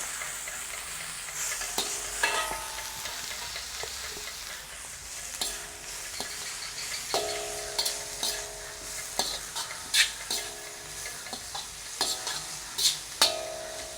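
Shredded cabbage stir-fries in a pan with leeks going in, making a crackling sizzle beneath repeated metallic spatula clanks and scrapes that grow busier and more rhythmic, close by and with no talk.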